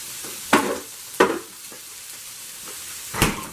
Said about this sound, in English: I'm just going to mix everything around